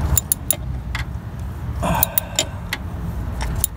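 A ratchet wrench works loose the oil pressure sensor on a 2002-2006 Toyota Camry V6, giving scattered sharp metallic clicks at an uneven pace, close by, over a low background hum.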